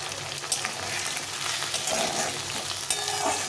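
Cabbage curry (bandhakopir ghonto) sautéing in a pan over raised gas heat, a steady close sizzle and crackle with stirring scrapes, running alone without talk.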